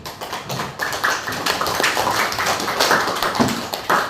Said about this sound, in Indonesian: kita kasih aplaus dulu untuk semuanya